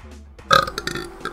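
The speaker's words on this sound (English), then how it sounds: "Good burp. Solid burp." A spider character burps in the video game Spider: Rite of the Shrouded Moon, a single short loud belch over faint game ambience.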